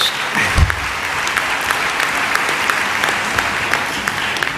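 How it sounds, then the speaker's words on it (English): Audience applause fills a graduation ceremony hall for ANC Education in Sri Lanka, a steady dense roar of many hands clapping throughout with no voices over it. "So I think that deserves a major round of applause"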